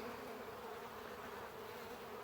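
Dense, steady buzzing of many honeybees close by at a hive entrance, a continuous droning hum with no pauses.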